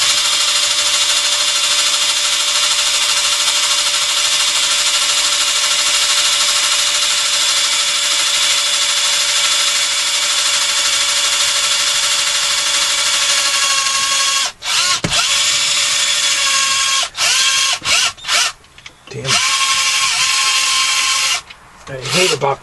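A Harbor Freight power drill whirs steadily and loudly for most of the stretch, then stutters with several brief stops and restarts near the end.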